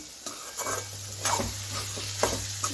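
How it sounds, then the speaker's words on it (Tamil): Bitter gourd thokku stirred and sautéing in hot oil over a medium flame, a steady sizzle with several scraping strokes of a spoon against the pan, close and alone. "உப்பு சேர்த்துட்டு நல்லா கலந்துட்டு ஸ்டவ் இந்த டயத்தில் ஒரு மீடியம் ஃப்ளேமில் வச்சு ஒரு 5 நிமிஷம் வதக்கி விட்டுக்கலாங்க"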